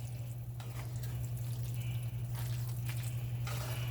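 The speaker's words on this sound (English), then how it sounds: "You're gonna rinse your noodles to make sure you rinsed all the salt off" Tap water runs steadily into a sink while cooked noodles are rinsed of salt for a Szechuan beef dish, a soft continuous splash with a few brief drips and louder gushes near the end, alone without talk.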